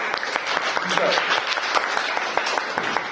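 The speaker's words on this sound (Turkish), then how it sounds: "Ben alkışlıyorum sizi." A teacher applauds contestants at a math competition in a classroom, sharp hand claps ringing out in a quick, uneven series while voices chatter in the background.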